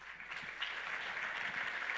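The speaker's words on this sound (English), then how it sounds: "Massive round of applause, please." Steady applause from a conference audience at SAP Innovation Summit 2018, a continuous dense patter of clapping at moderate volume with no voices over it.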